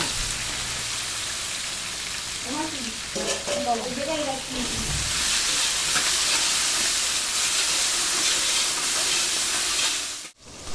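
Hilsa fish heads hiss and sizzle loudly in hot oil in a pan alongside chopped tomato and capsicum, a dense steady crackle that persists throughout, with a brief clatter near the end and no voice heard.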